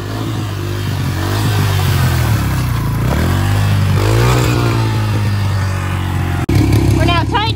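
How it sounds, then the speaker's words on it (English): A TTR dirt bike engine during balance point wheelies runs loud and continuous, its pitch dipping and climbing through several revs with wind noise, and a voice briefly shouts near the end. "show you guys pretty much her way of doing balance point wheelies and coasting on the TTR"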